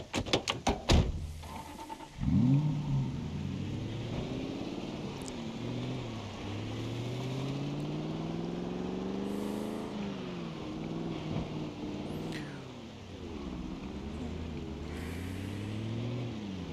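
A car engine in the Project Zomboid video game drives along, its drone rising and falling as gears shift and speed changes, preceded by a couple of sharp thuds, steady and moderately loud, with no talk.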